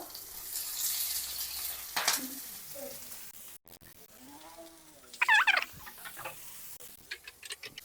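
Masala and ginger frying in a hot pan for biryani, a steady close sizzle with occasional stirring scrapes and brief bursts of crackle.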